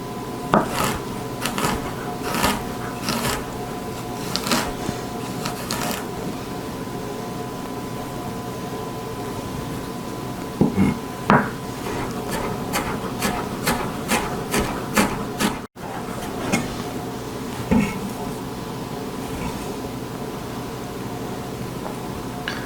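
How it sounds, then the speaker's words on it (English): A kitchen knife finely minces a vegetable with cross cuts on a wooden board for butternut squash soup, giving a run of quick, close, crisp chopping taps in bursts with short pauses. "And then we want to finely mince these, so I'm just going to cross cut."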